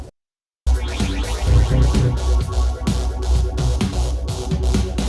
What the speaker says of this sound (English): It emulates an acoustic space on your headphones as if you were listening to a pair of speakers.